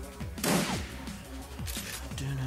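Gunfire from the video game Shadowrun Returns, a burst of sharp close shots followed by repeated thumping impacts, with low game music and faint voices underneath.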